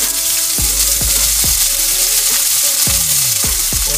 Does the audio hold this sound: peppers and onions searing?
yes